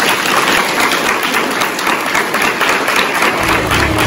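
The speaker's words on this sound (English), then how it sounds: "Please give Professor Singh a warm round of applause." Dense, loud applause from a university audience at a Guru Nanak 550 event, continuous clapping filling the whole moment with a crowd wash.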